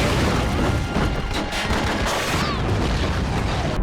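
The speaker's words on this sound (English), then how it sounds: "they explode the entire building with John in it again" Building blown up in the action film The Marine, heard as a dense, sustained roar of blasts and crashing debris filling the whole clip at steady high loudness, with no clear talk.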